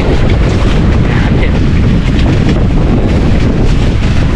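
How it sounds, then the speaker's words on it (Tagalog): Strong wind buffets a fishing boat at sea during night handline fishing, a loud, steady roar of gusting air and microphone wind noise filling the whole stretch with no break. "At malakas ang hangin."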